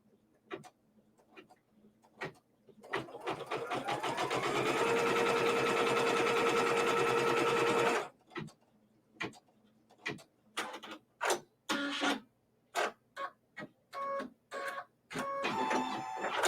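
An embroidery machine stitches a fabric piece down in the hoop for a quilt block, a loud steady whir of rapid needle strokes after a few ticks, then stopping abruptly into scattered clicks and short mechanical bursts.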